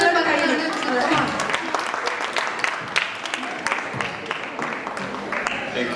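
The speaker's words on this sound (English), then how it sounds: "Everybody give a round of applause" An audience at an Onam celebration applauds a trivia winner with scattered, uneven clapping that tapers off, while a voice talks through the noise.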